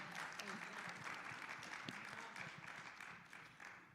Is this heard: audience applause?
yes